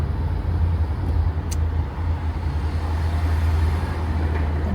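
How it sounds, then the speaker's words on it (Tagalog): Busy road traffic at an airport arrivals pickup area: a constant low rumble of many cars and engines idling and rolling past, steady and fairly close, with no talking. "Madaming sasakyan kasi arrival ng mga pasahero."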